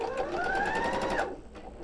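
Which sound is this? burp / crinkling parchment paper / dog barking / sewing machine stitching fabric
sewing machine stitching fabric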